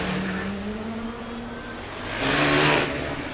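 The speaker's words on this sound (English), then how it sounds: "we have the car from Karlsruhe, the loud car from Karlsruhe, joining the track now" A loud Karlsruhe Formula Student race car joins the track during an endurance event, its engine note rising and swelling louder near the end as it draws closer.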